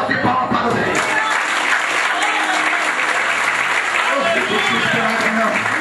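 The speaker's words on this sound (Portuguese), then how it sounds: "Vamos receber o evangelista Rafael com as palmas bem fortes para o Senhor Jesus" Congregation at a church service claps loudly and steadily in sustained applause, with voices mixed into the dense clapping.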